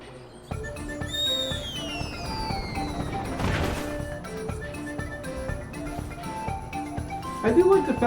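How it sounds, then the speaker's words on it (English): Explosions and crashing impacts from the video game Trials of Mana, a dense clattering burst peaking midway, with chiming tones and musical effects layered throughout and a louder clash near the end. "we all die a terrible death due to Michael Bay here with explosions."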